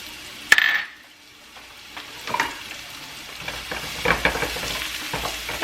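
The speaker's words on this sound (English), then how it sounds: "we're going to heat up a pan with oil. We're going to add our onion," Onion and garlic hitting hot oil in a pan, a sharp opening crackle settling into a steady sizzle, with scattered utensil clinks and stirring scrapes nearby and no talk.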